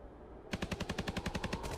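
Automatic gunfire in a movie firefight rattles off as one rapid burst of about a dozen evenly spaced, sharp shots, close and loud after a brief quieter lead-in, with no voices.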